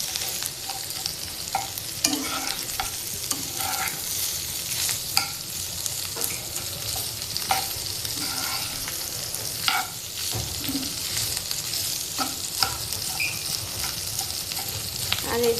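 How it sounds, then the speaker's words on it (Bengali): Fish frying with yardlong beans and magur fish roe, a steady loud sizzle with repeated scraping stir strokes against the pan throughout, nearby and without talk. "এই যে এখানে বরবটি দিয়ে মাছ দিয়ে মাগুর মাছের ডিম দিয়ে ভাজা করা হচ্ছে।"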